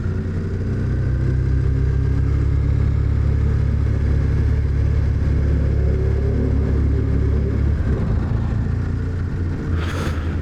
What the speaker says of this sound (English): it's some sort of motorcycle behind me